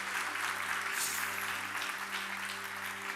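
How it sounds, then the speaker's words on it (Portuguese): A church congregation applauding, a soft, diffuse wash of clapping heard at a distance over a sustained organ or keyboard chord. "Se você crê, dê uma salva de palmas para o Senhor Jesus."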